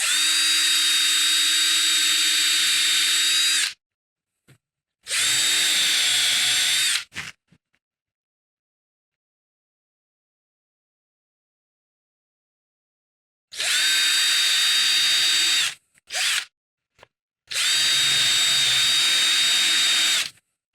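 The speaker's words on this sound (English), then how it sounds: "If I can get those two holes drilled and ready to accept the screw" A power drill boring holes for French cleat screws into wall studs in a barn workshop, with two pairs of loud steady whining runs separated by a long pause and short stops between bursts.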